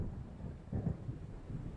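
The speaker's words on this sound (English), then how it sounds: "It seems there's a storm coming." Thunder of an approaching storm in the video game Alan Wake, low distant rumbles rolling in soft swells, faint and muffled.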